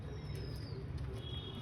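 Pigeons coo faintly on a rooftop, soft low calls repeating over a quiet background hum, with no talk.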